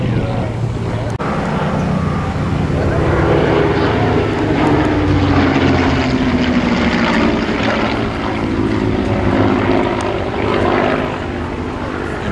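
A clipped-wing Spitfire propeller fighter flying at the Duxford Flying Legends airshow in 2013, its engine a loud, steady drone that swells and slowly shifts pitch as it passes, with no clear speech over it.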